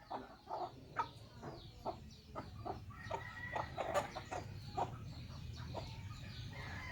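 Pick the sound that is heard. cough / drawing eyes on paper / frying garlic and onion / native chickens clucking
native chickens clucking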